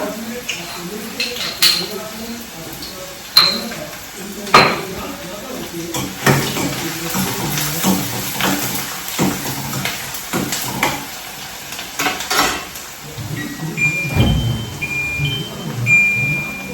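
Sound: garlic and onion frying in pan

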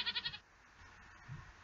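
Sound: goat or sheep bleating in Minecraft-style video game

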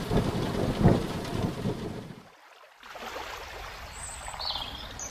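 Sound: heavy rain with thunder, sound effect

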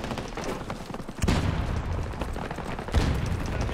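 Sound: Desert Eagle pistol gunfire in a video game

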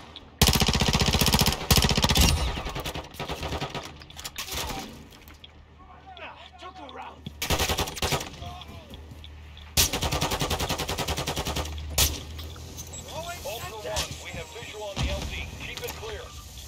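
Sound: gunfire from Call of Duty Warzone 2 DMZ video game

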